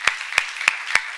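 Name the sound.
congregation applauding in church seminar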